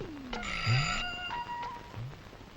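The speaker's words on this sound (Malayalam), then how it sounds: "ഓ, ഫോൺ ഫോൺ ഫോൺ, എപ്പ നോക്കിയാലും ഈ ഫോൺ ഫോൺ." A telephone rings in a comedy film scene, repeated electronic ringing tones in short bursts with pauses between them, with some low vocal sounds underneath.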